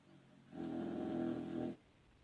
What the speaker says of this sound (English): Did you hear Molly snoring?